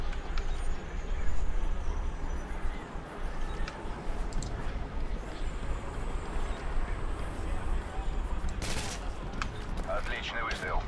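Rapid bursts of Call of Duty: Modern Warfare 2 gunfire crackle steadily over a dense, noisy background, with a louder volley near the end.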